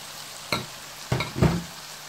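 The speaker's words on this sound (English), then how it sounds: "Then I stir everything together" Meat fries in a cooking pot with no added water, with a soft sizzle underneath as a utensil stirs, giving three brief scraping, clattering strokes.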